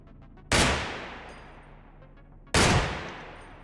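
Two loud, isolated gunshots in the shooter game Receiver 2, about two seconds apart, each with a sharp crack and a long, fading echo.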